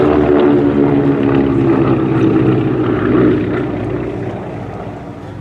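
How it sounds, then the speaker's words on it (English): Several former Royal Canadian Air Force Beech 18 twin-engine propeller aircraft flying in formation overhead at the Flying Legends airshow at Duxford, a loud, steady piston-engine drone that fades slightly toward the end. "The three Beech 18s in this formation are all former Royal Canadian Air Force aircraft."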